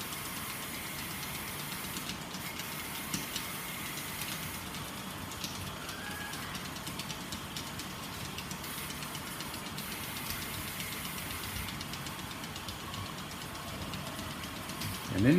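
An HO gauge model train runs into a station in a toy and train museum, a faint continuous mechanical rumble and whir in a quiet room.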